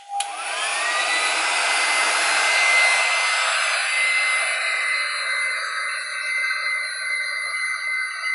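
A hair dryer blows steadily over poured resin art to pop surface bubbles, a loud continuous whooshing roar that starts abruptly and runs unbroken with no talking.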